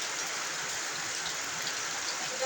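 Heavy rain pours down steadily as a dense, even hiss with no pauses, loud and close, with no voices over it.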